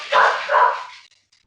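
A pet dog lets out two quick, close barks in a row, followed by a faint trailing yip, with no talk over it.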